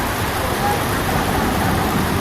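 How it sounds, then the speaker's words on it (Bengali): Steady, loud rain hisses continuously, a dense wash of falling water with no breaks. "আমার মাথার উপরে বৃষ্টি পড়ে"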